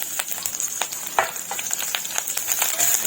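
Green chillies fry in hot oil with mustard seeds, cumin and asafoetida, giving a steady close sizzle with scattered crackles and pops.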